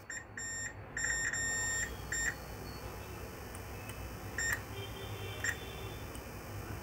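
Short, clean electronic beeps from a multimeter continuity test on a capacitor on an HP 640 G2 laptop board with a no-power fault: a cluster of close tones early, then a few sparse single beeps, with no talking.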